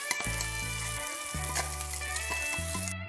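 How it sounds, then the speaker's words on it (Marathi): Green chili paste sizzles steadily in a hot pan as it is stirred, a continuous frying hiss with low, tonal rumbling layered underneath. "आता हा पेस्ट सुद्धा मी चांगल्या प्रकारे मिक्स करून घेत आहे"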